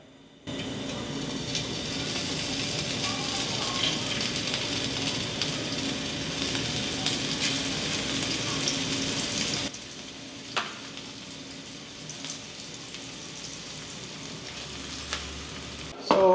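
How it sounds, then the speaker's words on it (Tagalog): Hot cooking oil sizzles steadily in a pan as teriyaki is pan-fried, a close crackling hiss that quiets partway through, with occasional clinks and taps following. "simulan natin mag-pan fry"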